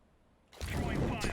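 A fire grenade jump-thrown in Counter-Strike on the Inferno map: after half a second of near silence, a sudden loud whooshing burst sets in and stays as a broad, sustained rush to the end.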